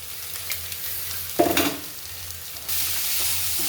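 Poha being stirred and fried in a pan with gravy, sizzling steadily with scraping spoon strokes and a louder burst of hiss as the flakes go in, then a brighter, continuous frying sizzle.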